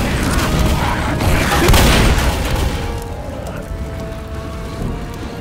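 Grenade explosion in Left 4 Dead, a loud broad boom swelling briefly and then decaying into a rumbling, crackling tail amid background game noise.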